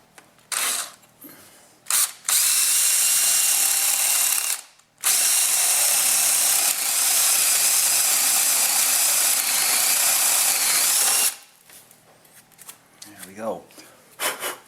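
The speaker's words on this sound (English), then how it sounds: "now I need to drill that out with a 7/8 flat bottom drill bit, about 3/4 of an inch deep." Drilling a 7/8 inch flat bottom bit about 3/4 inch deep into a French door for a latch, heard as two long, loud, steady whirring drill runs with short starts and stops between them.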